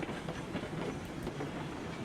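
Train rolling along rails in the RailRoads Online video game, a steady broadband rumble with rhythmic clickety-clack of wheels over rail joints, continuous and fairly close throughout, no voices.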